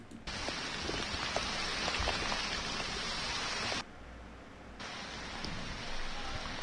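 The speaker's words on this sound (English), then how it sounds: "They got a couple of rounds of rain over there." Steady rain hisses loudly on a surface outdoors, dropping away abruptly for about a second before resuming at nearly the same intensity, with scattered individual drops audible throughout.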